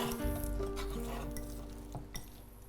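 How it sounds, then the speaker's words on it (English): Chopped walnuts, dates and apricots are stirred together in a bowl, with a spoon scraping and clinking against the sides in quick, close, uneven strokes. "I'm going to add the chopped walnuts, dates, and apricots here. And I'll just keep stirring."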